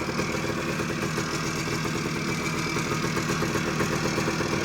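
A Suzuki PE250 two-stroke motorcycle engine runs close by at a steady, busy idle, its rapid uneven putter continuing without a break and with no voices.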